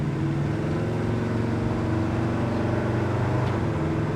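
A 1965 Chevrolet C10 pickup truck engine drones loudly and steadily up close, its pitch shifting slightly as it runs through a gear change.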